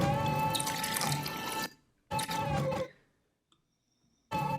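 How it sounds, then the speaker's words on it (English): A liquid-pouring-with-fizz sound effect: a loud rush of pouring and bubbling fizz that stops abruptly, returns briefly, fades to silence, then starts up again, with no voices. "as it starts pouring, I got liquid pouring with fizz"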